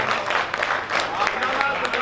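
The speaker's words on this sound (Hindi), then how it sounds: "उसके सम्मान के लिए एक बार तालियां मांगता हूं।" An audience claps together at a Hindi poetry recitation honoring Maharana Pratap, a dense, steady wash of applause filling the full two seconds with voices mixed in.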